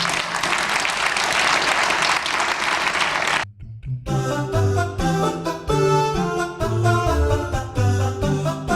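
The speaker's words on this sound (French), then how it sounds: "Oui, on peut l'applaudir." A theatre audience at a season presentation claps in a dense, loud burst for about three and a half seconds, then the applause cuts off abruptly and music takes over.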